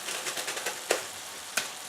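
Stuffed pepper filling cooking in a pan over low heat, a soft continuous sizzle with gentle pulsing crackles and two sharper clicks or spits standing out.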